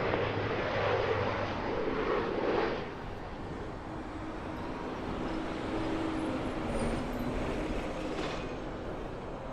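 An airliner takes off from runway 05 at Toronto Pearson, its jet engines giving a broad, steady roar that swells at first, then eases slightly and holds at a distance.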